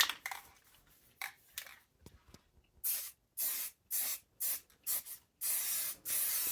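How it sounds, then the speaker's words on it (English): Repeated bursts of spray-can hissing from flat black Rust-Oleum spray paint on a board, about eight short sprays in a loose rhythm, close and loud with brief pauses between them. "I will be using a flat black Rust-Oleum spray paint to cover the rest of the board"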